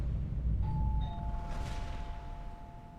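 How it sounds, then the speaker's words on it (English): A doorbell in the Alan Wake 2 video game sounds once, a clear sustained tonal ring that hangs and fades over a dark, rumbling ambient background, with no speech. "The doorbell just rang."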